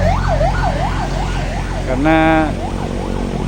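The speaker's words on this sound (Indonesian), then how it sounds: "Ini ada ambulan untuk pengantar, nggak tahu itu apa, harus menepi untuk pengendara lainnya" An ambulance siren wails in repeated rising-and-falling sweeps on the accident-prone mountain road through Pujon, Malang, loud and nearby over engine and traffic rumble, while someone briefly speaks over it.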